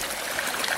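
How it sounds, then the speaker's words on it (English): A small, fast stream spilling over little waterfalls makes a steady, close, full-bodied rush and babble with no pauses or voices. "a lot of different water patterns here, little waterfalls, fast moving, slow moving."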